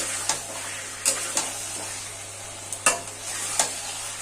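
Chicken kosha with fried potatoes stir-fried in a pan: a steady, close sizzle broken by several sharp spatula scrapes and clinks at irregular intervals, with no talking.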